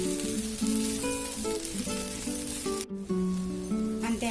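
Tindora (ivy gourd) frying in a pan as a simple Telugu stir-fry, a steady, close sizzle running the whole time beneath background music, with no voices.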